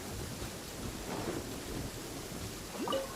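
Steady rainfall in the video game Genshin Impact, a dense continuous hiss of falling rain with a low rumble underneath, holding level throughout with no speech over it.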